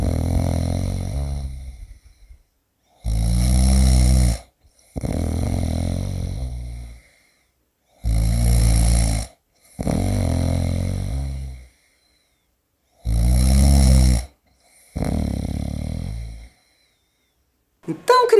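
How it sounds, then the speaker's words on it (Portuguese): A person snoring heavily, six or seven long loud rasping snores separated by silent pauses, close and alone. "Alguém roncando?"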